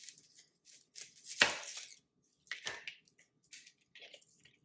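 Onion is cut on a handheld vegetable slicer with a guard: a few sharp, crisp slicing strokes, one loud and close, separated by brief pauses.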